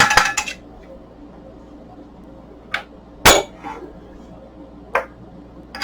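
Glass stopcock of a separatory funnel being tightened in a chemistry lab, a few sharp glassy clinks and knocks scattered over a quiet background hum, one louder clack near the middle.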